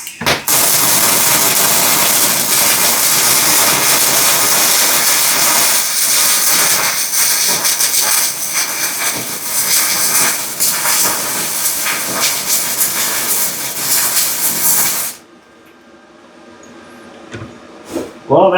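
A Yeswelder DP200 MIG welder runs an arc on 110 volts, a loud, steady crackling hiss sustained for about fifteen seconds before stopping, followed by quiet shop sounds.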